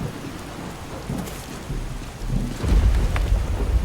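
Steady rain pours in modded Skyrim while deep thunder rumbles and swells louder toward the end, a full, close storm with no voices.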